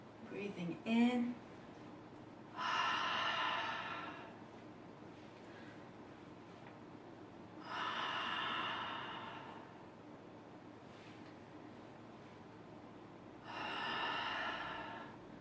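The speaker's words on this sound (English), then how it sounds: "Breathing in." A person takes slow deep breaths during a breathing exercise: three long airy inhales, each lasting a couple of seconds and evenly spaced, close and soft, with a faint voice murmuring briefly at the start.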